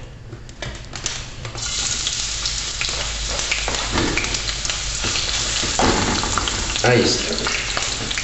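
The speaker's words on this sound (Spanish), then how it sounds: "Aprovechamos este momento en que nuestro aceite ya está suficientemente caliente y agregamos nuestra cebolla" Chopped onion hits hot oil and sizzles loudly and steadily, with scraping stir sounds and a brief spoken remark partway through.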